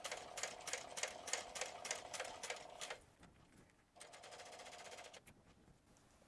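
A sewing machine top stitches a zipper into waterproof canvas, starting with a fast, rhythmic run of clattering stitches, then a pause, then a second steady burst of stitching close to the mic.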